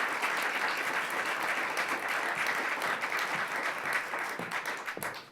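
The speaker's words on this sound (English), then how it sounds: "let's give a round of applause to Tom" Sustained applause from a gathered audience at a marquee unveiling at the Dominion Arts Center in Richmond, many hands clapping in a dense, even roar at moderate distance, tapering slightly at the close.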